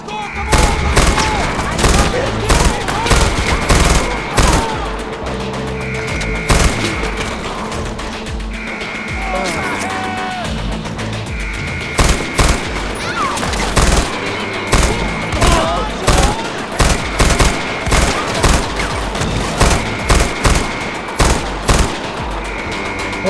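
Machine gun fire in Far Cry 4, repeated loud bursts of rapid automatic shots broken by short gaps, with a player talking over the game sounds at times.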